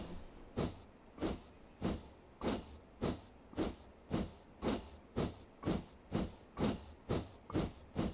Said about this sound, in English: See, that's when it sounds like a steam train.